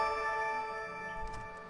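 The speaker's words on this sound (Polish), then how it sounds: "to jest dźwięk mojego followka" A new-follower alert chime from a livestream of The Witcher 2, a steady tonal jingle with sustained harmonic notes held for nearly two seconds, fairly quiet, with no talking over it.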